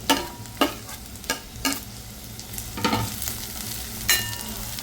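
Medium-cut onion and onion greens frying in a pan for a traditional Vidarbha tur ghugrya dish, a steady sizzle broken by regular scraping stirs close up, with no talk.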